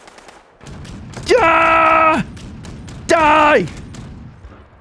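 A Gatling gun in a video game rattles off rapid continuous fire in the background while a player shouts loudly over it in two long bursts.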